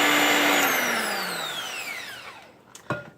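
A kitchen mixer runs loudly with cream cheese, then winds down steadily over a few seconds as it switches off, followed by a couple of brief clatters near the end.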